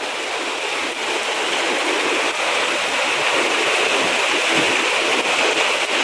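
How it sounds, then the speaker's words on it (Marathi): Unseasonal rain falling steadily outdoors, a dense, even hiss of water that stays loud and unbroken throughout with no voices over it. "खाली वाकून बघ पाऊस आहे ना"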